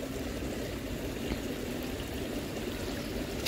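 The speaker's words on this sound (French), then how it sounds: "je suis entre deux ruisseaux. Un là et un derrière." Two woodland streams flowing on either side, a steady close wash of running water with a gentle trickling texture, continuous and alone without voices.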